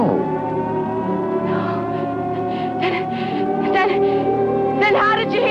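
Wailing sirens sound a tidal wave alert, steady rising and falling tones held throughout with voices heard underneath.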